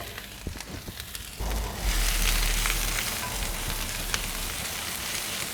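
Onions hit roasted garlic oil in a cast iron skillet and burst into a loud, steady sizzle that carries on to the end after a quieter opening with light knocks.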